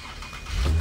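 A car engine in the video game Sleeping Dogs swells from a low rumble into a louder, throaty rev in the last half second, a short burst with no talk over it.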